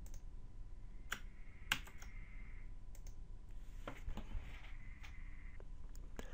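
Quiet clicks of a computer keyboard as a Ctrl-Z shortcut is pressed, a few sharp separate key taps spread over a soft background hiss.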